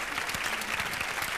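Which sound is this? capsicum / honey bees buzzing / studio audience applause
studio audience applause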